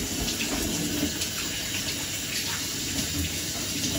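Tap water runs steadily into a sink as hands are washed with Dettol antibacterial soap, a continuous close splashing flow with no voices.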